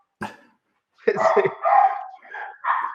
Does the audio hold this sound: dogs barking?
yes